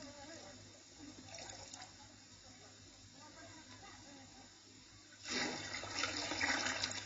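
Water poured from a large leather bag into a stone channel, a soft background hiss that swells into a louder rushing gush partway through and keeps flowing to the end.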